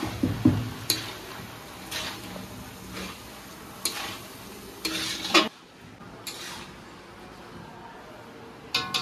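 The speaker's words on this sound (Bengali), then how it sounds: "মশলার সাথে সব বাঁধাকপি কিন্তু ভালো মতন করে মিশিয়ে দিয়েছি।" Cabbage being stirred into fried spice paste in a kadai, with repeated scraping strokes of a spatula against the pan over a soft, steady sizzle, close and moderately loud, pausing briefly before a few more strokes near the end.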